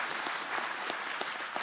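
Steady, dense audience applause at a DevOps conference in Amsterdam, a brief continuous burst of many hands clapping with a few sharper claps on top.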